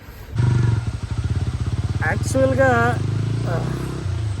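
A motorcycle engine fires up and settles into a steady throbbing rumble while riding toward hilly country, with someone talking over the engine partway through.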